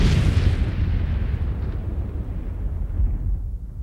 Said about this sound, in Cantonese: 幾十億年前，呢段火球爆炸